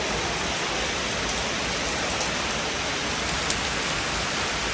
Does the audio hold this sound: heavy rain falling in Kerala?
yes